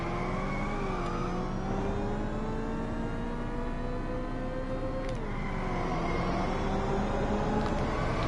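Simulated car engine in the drifting racing game Inertial Drift, revving steadily with rising and falling pitch sweeps as the car slides, a continuous loud whine with a sharp shift near the middle.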